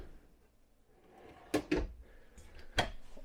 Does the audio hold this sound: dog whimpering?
no